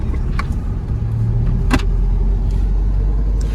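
A 2020 Lada Niva driving along an old, abandoned forest road, with a low, steady engine rumble close by and a few light clicks and rattles over it. Nobody speaks.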